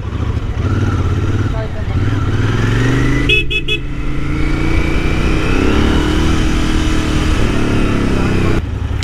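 A Continental GT 650 motorcycle rides through traffic with a steady engine drone and wind rush, while a short burst of car horn honks sounds midway.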